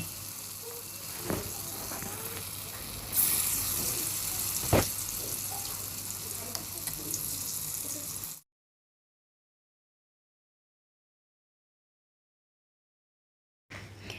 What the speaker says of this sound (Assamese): এতিয়া মই এই পেষ্টখিনি বৰ টাইপত বনাই ফ্ৰাই কৰি ল'ম।